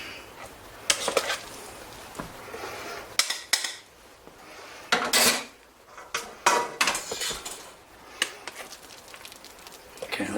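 Mashed potatoes spread and smoothed with a utensil over shepherd's pie in a dish: irregular scraping, tapping and clinking bursts against the dish, close and fairly loud, with brief pauses between strokes.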